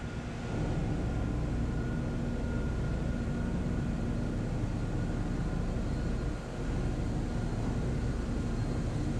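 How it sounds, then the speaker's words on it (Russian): Ballast pump turbine running in a tanker engine room, a loud, steady machinery roar with a constant hum, continuous throughout with one brief dip. "Это балластная турбина."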